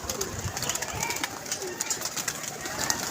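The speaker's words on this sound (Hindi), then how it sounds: "कबूतर आया" A pigeon coos softly amid outdoor background noise, with faint repeated low calls and chatter-like sounds around it.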